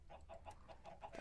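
Chickens cluck in the Minecraft video game, giving a quick run of about six evenly spaced short clucks, faint and close, with a steady low background hum and no talking.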